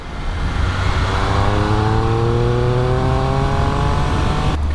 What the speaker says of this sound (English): the exhaust makes an absolutely fantastic sound